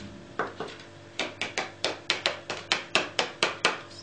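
Clear embossing powder being knocked off a handmade card, about a dozen sharp, close taps in a quick, fairly even rhythm, each with a short woody knock and a brief decay.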